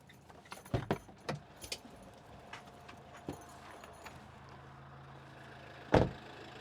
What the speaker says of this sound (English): So I shall go and open these gates, and I'll get us in here.